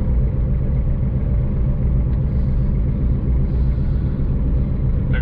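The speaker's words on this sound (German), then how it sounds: "Der ganze Krach, den man jetzt hört, das ist ein kaputtes Radlager" Constant low rumbling drone from an Audi car with a broken wheel bearing, steady and fairly loud throughout with no talking.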